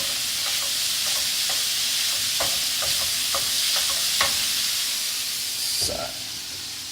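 Tofu browns in a pan with a steady sizzle and hiss, while occasional utensil clinks and stirring scrapes cut through; a short sliding scrape comes near the end.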